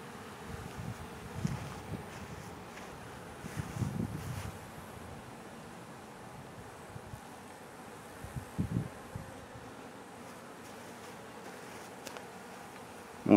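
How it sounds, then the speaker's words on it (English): Honey bees hum in a steady, moderately close swarm as they clean a honey frame left out near a hive, with soft wind buffeting the microphone and brief louder passes of individual bees. "I left this out so the bees would clean it up."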